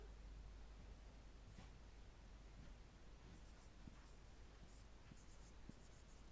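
A hand writes out a fluid-flow continuity equation, giving faint, soft scratching strokes over a low steady hiss, with no voices.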